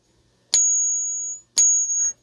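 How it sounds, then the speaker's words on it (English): A junk silver coin given a ping test rings out twice, each strike a bright, sustained metallic tone that hangs for about a second before fading, heard alone in a quiet room. "Basically, you can ping test it. If it makes that nice ring, then you know it's legit."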